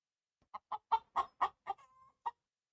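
A chicken clucks in a quick series of about eight short, clear calls, evenly spaced and close up, with one longer drawn-out note near the end and silence around them.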